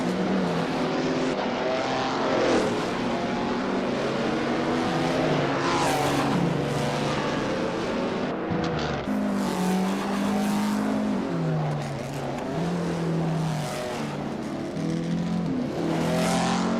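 Race cars roaring around a track in a racing video game, several engines revving and shifting up and down continuously at close range, loud and unbroken, with tire noise mixed in.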